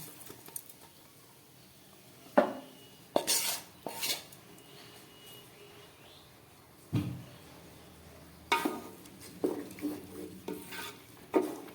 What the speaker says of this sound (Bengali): চলুন এই গোবিন্দভোগ চাল আর সবজিটাকে জলের মধ্যে আমি দিয়ে দিলাম